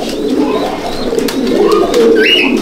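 Fancy pigeons coo in a loft, with soft, rolling calls overlapping close by and a few higher chirps mixed in.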